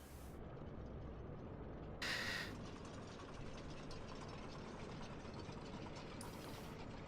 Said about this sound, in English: Are we hearing the engine cool off sound?